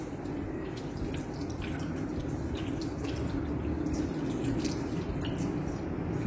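Tap water runs steadily into a sink while hands are rinsed during a clinical handwashing routine, a continuous close splashing with small drips and no talk.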